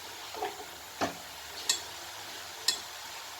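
Grated carrots stirred in ghee for gajar halwa, four distinct scraping strokes about two-thirds of a second apart, each a short sharp rasp over a faint low sizzle.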